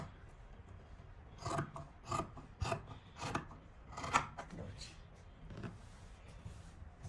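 Scissors cutting palazzo pants fabric on a table, a series of short rasping snips in irregular bursts, close but quiet, with soft talk in between.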